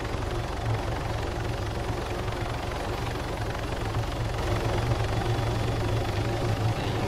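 A helicopter in Arma 3 idles or hovers nearby, its rotors making a steady low throbbing drone over a broad engine hum that continues unbroken with no talk.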